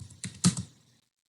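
A few quick keystrokes on a computer keyboard while an image prompt is typed, three or four close, soft clicks within half a second, then quiet.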